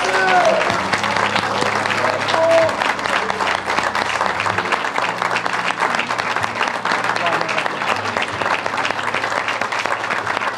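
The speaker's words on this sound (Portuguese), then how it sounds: "Um aplauso àquele que vive para todo sempre." A congregation applauds in praise of Jesus during a worship service, with dense, sustained clapping lasting several seconds. A voice and music carry on underneath.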